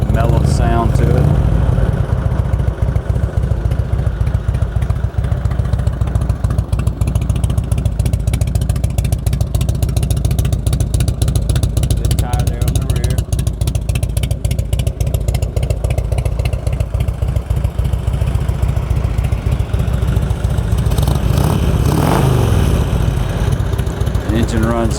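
A Harley-Davidson Heritage Springer motorcycle with about 3,800 miles idles close by in a deep, even, loping rumble, with a brief rev near the end.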